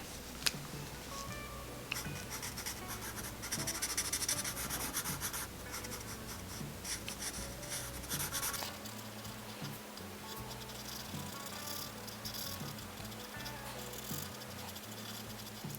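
A pencil rubs and scratches across paper while shading in a drawing of the Pokémon Blastoise. The strokes are soft and continuous, with quiet friction and brief scraping bursts that rise and fall throughout.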